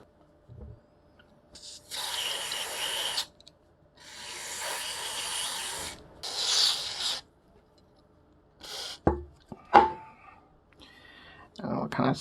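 Contact cleaner sprayed onto the plastic fan hub of a PowerVR Kyro 64MB graphics card, heard as several close, hissing bursts of a few seconds each, followed by sharp clicks and knocks.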